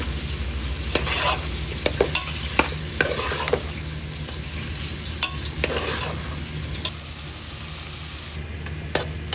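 Tomatoes fry in a pan with steady sizzling and frequent scraping stirs, punctuated by sharp clacks of a spoon against the pan; close, fairly loud, no voices.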